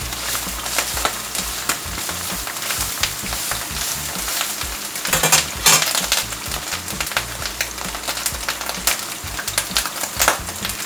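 Vaca frita, shredded beef with garlic frying in oil, sizzles loudly and continuously up close, with scraping stir strokes and occasional clinks from the pan over the steady crackle.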